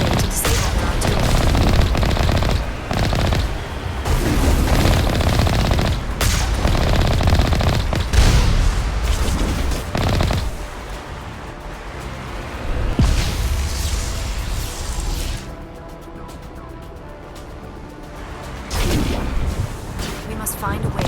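A battlefield scene in the sci-fi game Mass Effect rumbles with dense, continuous gunfire, heavy booms and artillery blasts that ease into a quieter stretch partway through before building again, with voices speaking over the barrage.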